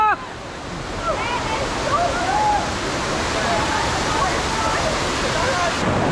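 Rushing water from a waterfall at Dunn's River in Ocho Rios, Jamaica, roars steadily and close throughout, a dense broadband wash, while voices call out faintly above it.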